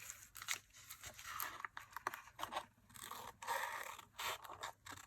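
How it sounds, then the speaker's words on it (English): Scissors cut paper pieces at an angle for a handmade memory book journal, giving faint, close snips and crunchy scrapes in irregular bursts. "I'm going to cut these at an angle going this direction."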